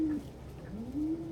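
A single pet pigeon coos close by in its cage, giving a low, wavering call that swells, drops away briefly and then rises again. No one speaks and no other sound competes with it.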